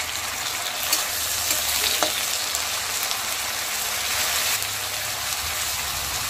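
Garlic, ginger and green chili paste fry with onions in a pan, giving a steady, fairly loud sizzling hiss with faint stirring scrapes and no voices.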